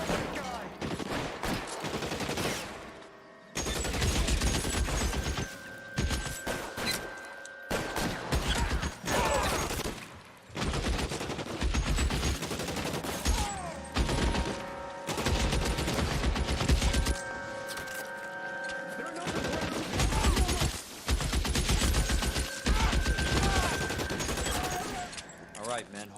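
Heavy, sustained gunfire in the video game L.A. Noire: dense volleys and bursts from several guns, broken by brief gaps, with steady tones and game sounds underneath throughout the long exchange.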